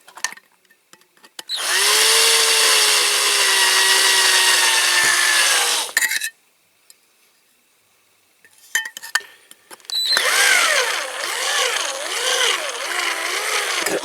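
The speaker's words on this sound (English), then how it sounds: "Come on, drill, please." A power drill whirs loudly in two long bursts with a quiet pause between them, the second burst wavering as it bites, during restoration work on a Dinky Toys Blaw Knox heavy tractor model.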